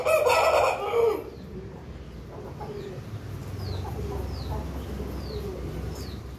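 An aseel rooster crows loudly and close at the start, followed by quieter background clucking and chirping from other birds.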